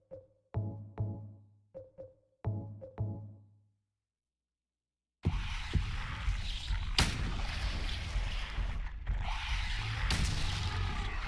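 Rifle fire in the video game Silent Hill 2: several sharp, booming shots in quick bursts, each ringing out, then silence before a loud, dense stretch of continuous noisy action.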